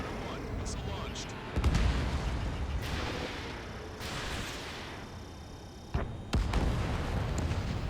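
Explosions and booming fire roar through a chaotic aerial battle in Ace Combat 7, dense and loud, with sharper blasts near the start and end over a constant rumbling war backdrop and radio voices.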